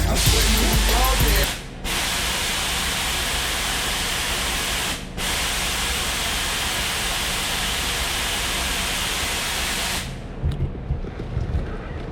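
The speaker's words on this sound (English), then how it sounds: "we're going to basically empty the whole bottle with the purge" A loud, steady hissing spray of a nitrous oxide purge on a C4 Corvette runs almost continuously, broken by two brief pauses, then cuts off near the end, leaving quieter rustling.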